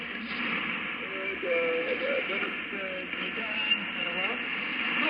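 Static-laden radio signal from an Icom 9500 receiver during a band scan, a steady hiss with warbling, watery-sounding tones drifting in and out, continuous and moderately loud with no talk.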